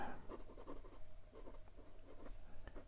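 An Artimber Octagon fountain pen with an extra fine nib writing tiny script on paper, producing soft, quick scratchy strokes in short bursts, faint and close.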